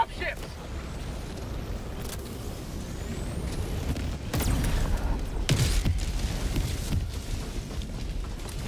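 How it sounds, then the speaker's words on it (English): Enemy drop ships arriving in Helldivers 2, a heavy low engine roar that swells about halfway through and stays loud, with scattered thuds and game noise around it. "Drop ships."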